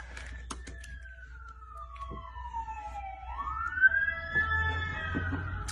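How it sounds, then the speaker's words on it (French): A siren wails through a street in the United States, its tone sliding down and back up as the vehicle passes, over a low background rumble with a few faint clicks. "On a les ambulances qui vont passer."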